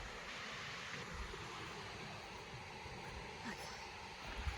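Surf rolling in at Southwick Beach State Park in Henderson, New York, a steady broadband wash of waves with wind buffeting the microphone, continuous and fairly close throughout.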